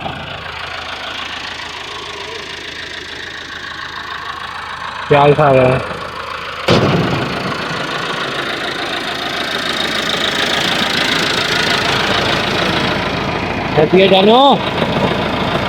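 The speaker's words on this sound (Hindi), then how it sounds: "ट्रैक्टर की आवाज़ तो देखते हैं कौन है" A tractor engine chugs and knocks steadily at close range, with brief voices speaking over it a couple of times.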